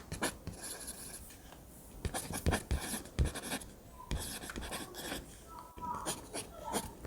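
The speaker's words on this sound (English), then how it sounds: "We are cutting it into smaller pieces to enable us blend" A knife cuts fresh ginger into smaller pieces on a board, making scattered sharp chops and scraping strokes at close range, irregularly spaced.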